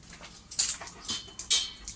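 A puppy whimpers in short, high, faint bursts, with three or four thin cries spaced across a couple of seconds against a quiet background.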